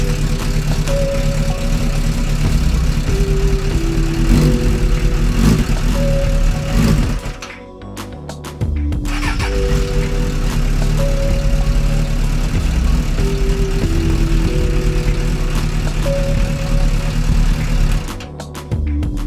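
A Suzuki Bandit 600 motorcycle engine runs at a steady idle, loud and close, with a rhythmic mechanical chug that briefly cuts out midway and drops off near the end.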